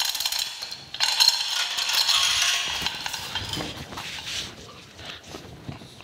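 The jaw of a Wilton 800S 8-inch bullet machinist vise slides open, giving a near, gritty metallic scrape and rattle that peaks early and then tapers into lighter clicks.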